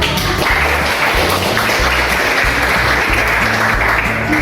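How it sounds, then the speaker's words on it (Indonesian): A classroom of students applauds loudly and steadily at a teaching session in Yogyakarta, a dense continuous wash of clapping close to the microphone that lasts the whole stretch over a low background hum. "Betul, tepuk tangan."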